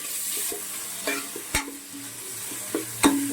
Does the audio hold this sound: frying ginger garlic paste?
yes